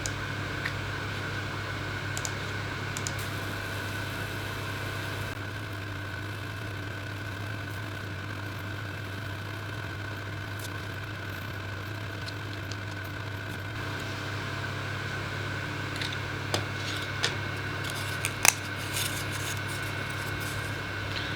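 A Nano Pro 12W laser cutter works through 5mm hardwood plywood at slow speed and full power, giving a steady, moderately loud mechanical hum with a whirring fan underneath and a few faint clicks near the end.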